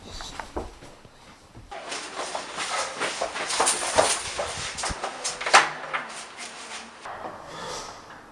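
A door opened during a Christmas party, a series of knocks, clunks and rattles with a sharp bang near the end, heard alone without talking.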